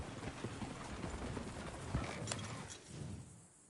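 Horse hooves clip-clop in the video game Red Dead Redemption II. The hoofbeats are soft and fairly quiet, mixed with faint creaking tack and mechanical rattles, and no one talks.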